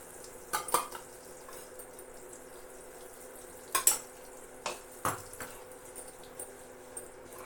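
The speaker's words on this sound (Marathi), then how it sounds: "ह्या ज्या गुठळ्या होतात त्या मोडून घ्यायच्या लगेच भाजत भाजतच ह्या गुठळ्या मोडल्या की मग परत त्याचा त्रास होत नाही" Spoon stirring besan flour as it roasts in ghee for laddoo, breaking up lumps. A steady low sizzle runs under it, with scattered clinks and scrapes against the pan.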